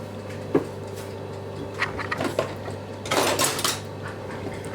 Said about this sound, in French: je vais mettre tout ça dans une poêle avec un petit peu d'huile d'olive bien chaude